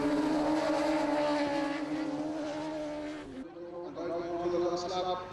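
Superbikes scream past on the Ulster Grand Prix road course, engines howling at high revs before the sound cuts away to a more distant engine note, all under steady race commentary.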